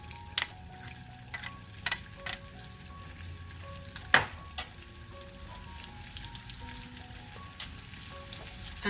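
Garlic sizzles quietly in a frying pan, a soft steady crackle broken by a few sharp clicks and taps of a utensil against the pan.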